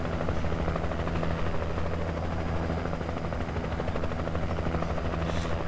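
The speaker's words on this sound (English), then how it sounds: "I have a helicopter." Helicopter in the Alan Wake video game, a steady, loud rotor thrum with a continuous mechanical drone holding evenly throughout, no voices over it.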